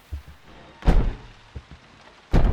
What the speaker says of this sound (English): Something is knocking on the bathroom door.